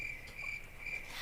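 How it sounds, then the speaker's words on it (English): Crickets chirp as a sound effect, a steady high-pitched trill pulsing evenly and fairly close, alone over faint background hiss. "Now you play the crickets."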